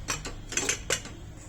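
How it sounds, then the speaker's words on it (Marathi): A cooled pressure cooker holding sprouted moth bean and potato curry being opened, a few close metallic clanks and scrapes of the lid, brief and uneven, then quiet. "आपण आता कुकर खोलूया"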